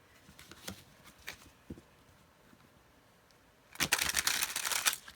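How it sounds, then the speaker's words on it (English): Pixie's Marseille tarot cards being shuffled by hand: a few soft, light taps at first, then a dense, close burst of rapid riffling papery flicks near the end. "Shuffle, very nice."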